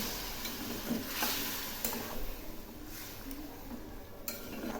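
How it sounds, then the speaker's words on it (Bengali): Chana ghugni masala is stirred in a pan after a cup of water is added, a soft sizzle running underneath several scraping, clinking strokes of a utensil against the cookware, close and fairly quiet. "একটু নেড়ে দিচ্ছি"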